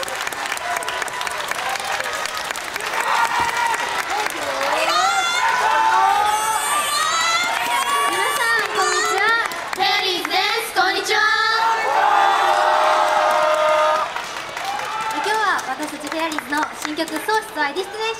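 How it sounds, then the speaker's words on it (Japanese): Crowd applause and cheering from a release-event audience in a Nagoya shopping mall as the idol group Fairies arrive on stage, loud and sustained throughout, with shouts and an announcer's voice over the clapping. "大きな拍手でお迎えください"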